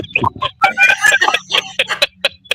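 A person imitating a duck call with the voice, a close, loud run of rapid squawking, quacking bursts that stop and start over a couple of seconds.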